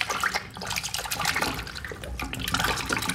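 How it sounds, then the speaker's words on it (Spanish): Water poured over a freshly cleaned shower head, a steady splashing and gushing stream with fluctuating spatter, close and fairly loud, with no talking over it. "vamos a echar agüita para ver qué tanto se limpió"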